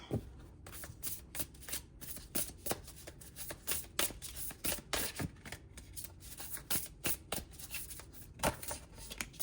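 Playing cards are shuffled repeatedly close up, giving crisp riffling bursts in an uneven rhythm for several seconds.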